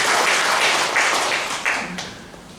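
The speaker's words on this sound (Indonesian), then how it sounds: "Kita beri tepuk tangan dulu bagi Tuhan Yesus" A church prayer-meeting congregation applauds, a dense wash of clapping that swells, then gradually fades over a couple of seconds.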